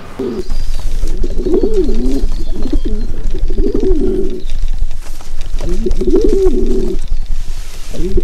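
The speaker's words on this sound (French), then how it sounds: "je parle des pigeons, vous savez, les oiseaux là" Pigeons coo in repeated soft, throaty bursts close by, a few calls in a row, a pause, then another round, with no voices over them.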